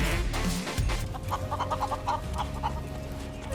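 Chickens cluck in a Final Fantasy 7 game scene, with a run of quick, fairly faint clucks layered over background music.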